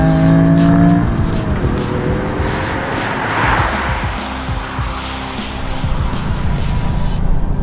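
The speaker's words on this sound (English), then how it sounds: "Now though, thanks to Toyota and Mäkinen, the homologation special has returned with this. The Toyota Gazoo Racing Yaris" A 2020 Toyota GR Yaris homologation hatchback driven hard on South Wales roads, its engine loud and close, rising and falling through gear changes with tire squeal, alone without talk.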